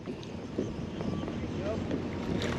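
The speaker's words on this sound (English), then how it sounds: "While I'm getting beat up by the wind" Steady wind roars and buffets the microphone on a kayak out on Hammonton Lake, New Jersey, during a mid-fall fishing trip, a continuous rushing blow with faint water lapping beneath.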